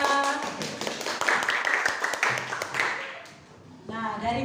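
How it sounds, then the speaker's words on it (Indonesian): Scattered classroom clapping, a quick run of sharp hand claps that thins out and fades to near quiet before a voice starts speaking. "Beri tepuk tangan untuk Tiara."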